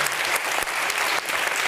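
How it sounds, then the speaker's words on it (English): A conference audience at a women-in-digital-leadership event claps in a dense, steady burst of applause, close and full, without a break. "So a big round of applause for them now."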